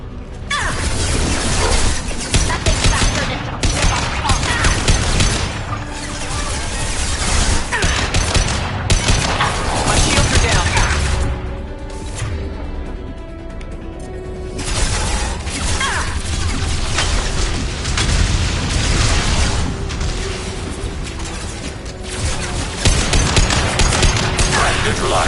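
Overridden turret firing in Mass Effect 2, a loud sustained barrage of automatic fire with mechanical clatter, briefly easing midway before resuming, with game voice alerts mixed in.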